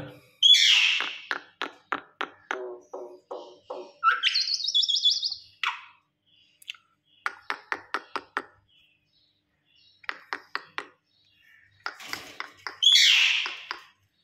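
A pet myna bird calls and whistles close by, with bursts of rapid clicking chatter, short pauses and a few rising whistled notes spread across the stretch.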